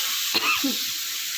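Onions with green chilli paste frying in a pan give a steady close sizzle, broad and hissy throughout, with a brief stir or scrape near the start.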